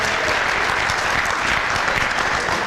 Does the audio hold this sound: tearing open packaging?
no